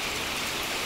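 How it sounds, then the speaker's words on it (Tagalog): Steady rain falls during a typhoon signal number 1 storm at a rural home where goats are kept, a continuous close hiss of drops with no voices. "Kanina pang tanghali yung ulan."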